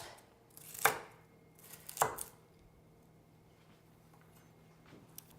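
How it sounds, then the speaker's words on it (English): Two sharp knife strikes chopping celery on a cutting board, about a second apart, then quiet; close and crisp with no talking. "so we finished chopping our celery"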